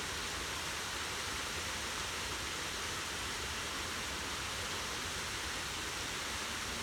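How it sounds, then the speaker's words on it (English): A desert waterfall pours in a steady, unbroken rush of water, a dense hiss that stays constant and fairly close throughout with no other sounds. "Focus on the sound of the water."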